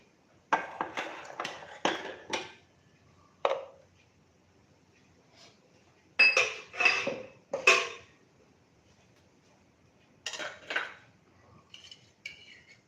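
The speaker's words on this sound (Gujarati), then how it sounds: "સૌપ્રથમ આપણે તડકા પેનમાં તેલ મૂકીશું." Metal spoon clinks and taps against a metal tempering pan as oil is added, several bursts of close, sharp clattering separated by quiet pauses.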